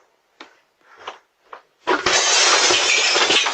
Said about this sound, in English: Somebody just bust through your front window.